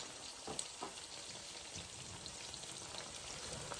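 Oxtails with a sprinkle of brown sugar browning in a pan, sizzling in a steady, close hiss with small crackles and pops throughout.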